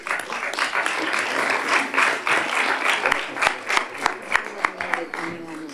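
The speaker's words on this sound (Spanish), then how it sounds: "Venga, un aplauso para ellos." A group applauds warmly, clapping steadily and then tapering into a few scattered, distinct claps near the end.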